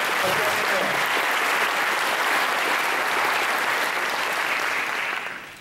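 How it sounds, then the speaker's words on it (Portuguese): A church congregation applauds loudly during a Sunday morning service, dense sustained clapping filling the room for several seconds before tapering off at the end, with a voice faintly present beneath. "Se você crê nisso, aplauda bem forte"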